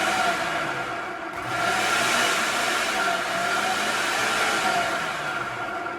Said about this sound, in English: I'm just gonna blend that real quick.